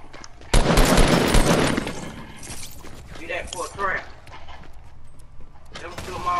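A burst of rapid gunfire in a shooting video game, loud and dense for about a second, followed by excited players talking over quieter game sounds.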